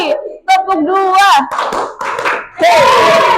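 A classroom of students clapping in unison twice on a teacher's call, with the teacher's voice and a group shout mixed in around the claps.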